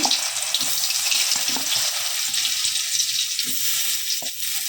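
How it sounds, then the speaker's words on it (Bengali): Salted, turmeric-coated raw green banana frying in a pan, a loud close crackling sizzle with scattered pops and light stirring knocks throughout, no speech. "এবার আমি কাঁচা কলাটাকেও একটু হালকা ভেজে নেব"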